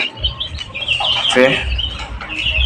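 Ten quails, eight females and two males, cluck and chirp in a coop. The soft calls are close and overlap, with one louder call midway.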